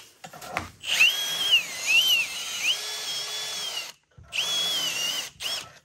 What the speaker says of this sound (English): I'll fix it in just a second with a drill and a reamer.